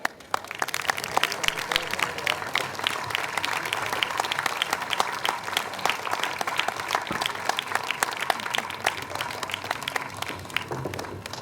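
Audience applauding for an orchestra at a Baroque-to-pop evening concert in Jesolo, a steady dense wash of many hands clapping that holds evenly for the whole stretch, no voices on top.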